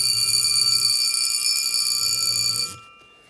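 The alarm of a Jaeger-LeCoultre Master Réveil mechanical wristwatch rings as a steady, loud metallic buzz for nearly three seconds, then cuts off abruptly into quiet.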